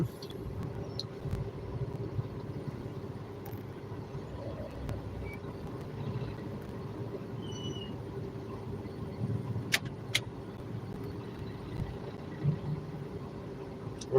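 Night road traffic on a busy diversion route, a steady low rumble of passing cars and heavier vehicles heard from nearby, continuous with a few brief louder moments and no talking.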